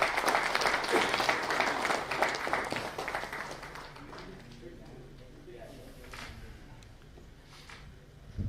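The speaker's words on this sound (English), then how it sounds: "Ladies and gentlemen, they definitely deserve a round of applause" An auditorium audience at a hospital fire and electrical safety event claps for a group called forward, the applause loud at first and then fading into murmuring and a few voices.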